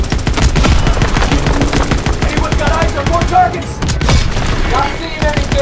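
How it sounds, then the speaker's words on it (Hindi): Bombs falling and dense gunfire in Call of Duty: WWII during the Collateral Damage mission, with loud continuous booms and rapid bursts of shots filling the scene and no voices. "अभी ऊपर से देखो बम गिरा रहे हैं।"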